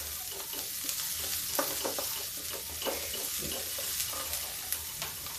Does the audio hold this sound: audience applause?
no